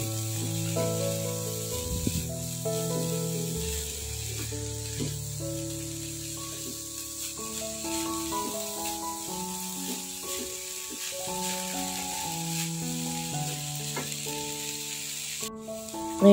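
Chopped chicken fries in a pan for a risol ragout filling, giving a steady soft sizzle and hiss that runs beneath louder melodic background music throughout.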